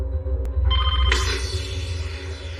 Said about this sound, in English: When I heard that phone ring, I would try to grab it before the first ring completed.